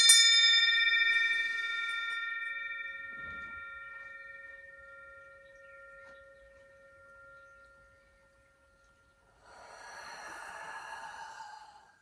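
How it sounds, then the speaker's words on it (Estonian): A meditation bell is struck once and rings out in clear, sustained tones that slowly fade over several seconds. A soft breathy rush follows near the end. "Kohe tuleb kolmas kell."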